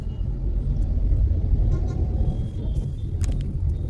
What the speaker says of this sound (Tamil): ஸோ கோயம்புத்தூரோட டிராஃபிக் அப்படிங்கிறது இதுதாங்க.